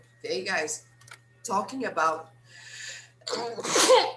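A single sharp sneeze bursts out loud and close near the end, following a stretch of casual talk in a room.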